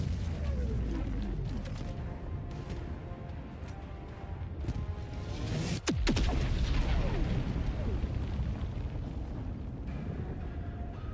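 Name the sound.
explosions from orbital strike in Helldivers 2 video game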